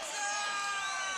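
Crowd cheering and whooping at the 2018 Grand Beatbox Battle, a dense, loud wash of many voices screaming together, sustained with no break for the whole moment.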